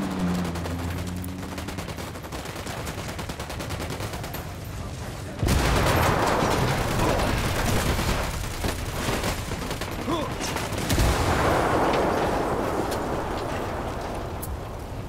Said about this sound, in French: J'ai compris, je vais tirer. Ça va exploser